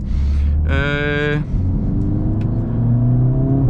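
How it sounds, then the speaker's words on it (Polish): A 2023 Mercedes-AMG A45s engine is revved hard, rising to a strident held tone, then released so the pitch drops back toward idle, loud and close over a steady engine drone. "Szczególnie jak tak sobie wrzucimy silnik na 5000 obrotów i odpuścimy."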